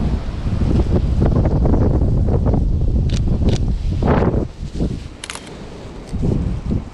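Wind blows outdoors on an autumn nature outing and buffets the microphone in loud, uneven gusts that roar and then ease. A few faint clicks and brief lighter sounds come through between the gusts.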